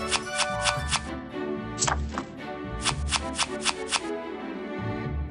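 Playing cards are shuffled for a redraw in the One Piece card game, giving quick bursts of crisp riffling and tapping, close and clear, with a faint music bed underneath.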